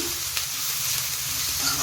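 Fried potato mixed with coconut chili paste sizzles steadily in a pan, a dense, even crackling hiss with faint stirring scrapes, close and continuous.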